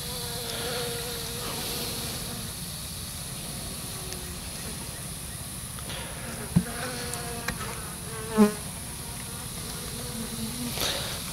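Honeybees hum steadily while a swarm trap is opened and inspected, the buzz close and continuous, with a few knocks and brief louder bees flying past near the end.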